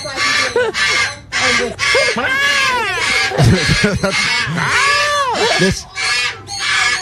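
Loud, raucous squawking from a large bird, repeated harsh screeching calls in quick bursts, close by, with a person speaking briefly.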